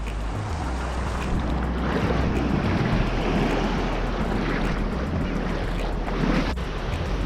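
Ocean waves wash steadily onto a beach at Brooms Head in Northern NSW as the tide comes in, a continuous loud rushing surf with wind buffeting the microphone and no talk.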